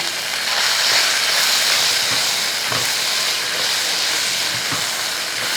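A loud, steady hiss of frying ivy gourd stir-fry with curry leaves in a pan for Kerala mezhukkupuratti, with a few dull stirring knocks of a spatula scattered through.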